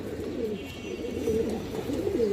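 Low, throaty coos of a khaki pigeon rise and fall repeatedly over a steady background hum, close by.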